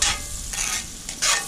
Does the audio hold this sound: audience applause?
no